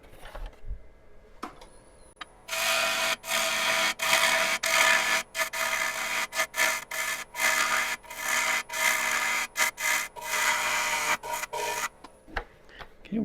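A turning gouge cuts maple crotch wood spinning on a lathe, a bright, rasping shear in long repeated strokes broken by short pauses, close and loud after a quiet start.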